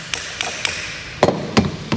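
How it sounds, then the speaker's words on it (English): A hammer knocks at the gear lever of a BMW M5 E39 in a garage, giving a series of sharp metallic taps, irregularly spaced, the last few heavier and closer. "you can just take a hammer and also just knock it a bit"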